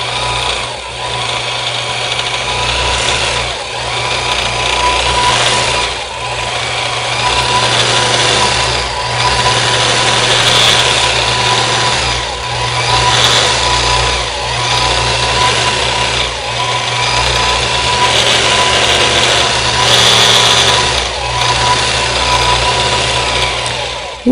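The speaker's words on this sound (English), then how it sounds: "So I'm going to sew this next row." A longarm quilting machine sews a pantograph row across a quilt, a steady loud motor whine and hum running throughout with slight rhythmic pulses as it moves.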